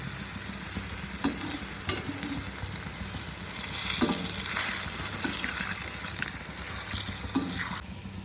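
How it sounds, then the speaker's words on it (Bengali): Pitha frying in hot oil in a home kitchen, a steady sizzle with occasional stirring clinks and scrapes, close and continuous. "এখন বড়টা ভেজে রাখবে।"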